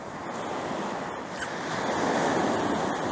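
Waves wash onto a beach in Turkey in the evening, a steady loud surf roar with wind buffeting the microphone and no voices.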